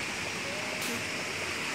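Waterfall seen from a hiking trail in Thailand after clear river water, a steady broadband rush of falling water, moderate and continuous, slightly louder partway through.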